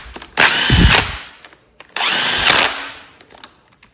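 A power tool snugs up bolts on a Honda XL500 engine in two close, loud whirring bursts of about half a second each, separated by a brief pause.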